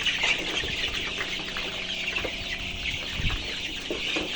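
Sonali chickens clucking in a poultry shed with dried-out litter, a restless flock of steady overlapping clucks and scratchy movement over a constant background hum.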